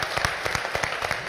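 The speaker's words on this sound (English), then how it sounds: "Ladies and gentlemen, please a big round of applause." A modest audience at a book launch applauds, with distinct, fairly close hand claps repeating in a quick, uneven rhythm over a short burst.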